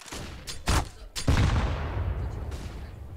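Pistol gunfire in Counter-Strike on the Dust2 map during a professional esports match, a few sharp close shots in quick succession followed by a sustained noisy burst, with faint background ambience.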